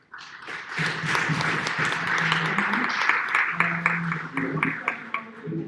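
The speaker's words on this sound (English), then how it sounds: "I'd like us all to join me in giving a huge round of applause to all our 6 panelists." An audience at an international wellbeing conference applauds its panelists with a dense, sustained round of clapping that carries on steadily, while a few voices murmur underneath.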